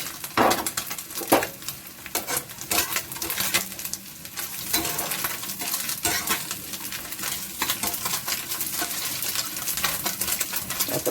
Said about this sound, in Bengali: এই ভাজা হচ্ছে মোরলা মাছ।